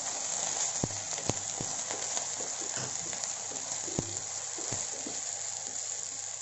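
Peas frying in a pan for paneer pulao sizzle with a steady bright hiss, punctuated by sharp clicks and clinks of stirring against the pan, close and fairly quiet.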